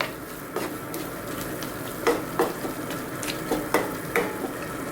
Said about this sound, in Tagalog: Ngayon po ang ating spring onion. Again, mix natin siya.